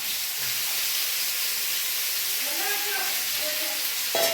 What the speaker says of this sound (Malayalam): ഇനി കഷ്ണങ്ങൾ ഇട്ട് കൊടുക്കുവാണ്. ഓരോന്നായിട്ട് അങ്ങോട്ട് ഇട്ട് കൊടുത്ത് ഫ്രൈ ചെയ്തെടുക്കാം.